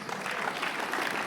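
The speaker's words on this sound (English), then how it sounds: "So please clap for Covenant University." Students applauding in a large university auditorium, a brief dense burst of many hands clapping together, steady and moderately loud.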